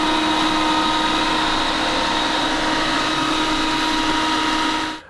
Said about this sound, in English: So when it does its thing, the vacuuming, I have it on intense.